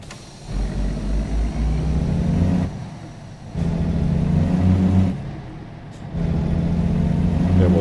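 A heavy truck engine in American Truck Simulator, driving down the I-5 toward California, revs up in three loud acceleration pulls separated by gear-shift dips, with a deep, steady engine drone and a brief air-brake hiss near the end.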